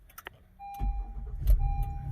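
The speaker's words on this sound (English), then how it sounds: "and the car starts up perfectly fine." An Acura MDX, RDX or TLX (2014–2021 model years) starts up, with a soft click followed by the engine catching and settling into a steady low idle rumble, heard nearby with no talking.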